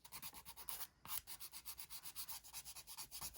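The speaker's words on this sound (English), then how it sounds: "now I'm just going to file this nail just to make the shape a little bit nicer" Nail file rasping across a fingernail in quick, even back-and-forth strokes, a soft close scratchy rhythm of about five strokes per second with a brief pause near the start, no talking.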